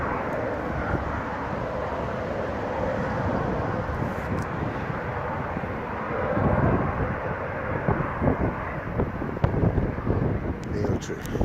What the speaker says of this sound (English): Oh, aircraft, look at this. Military, by the way.